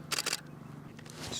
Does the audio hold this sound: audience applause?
no